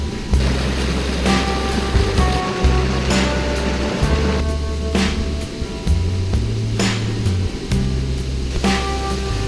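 Upper falls in Shenandoah National Park, a small cascade spilling over rocks into a shallow pool, giving a steady, loud rushing wash of water close by, with broadband splashing running unbroken throughout.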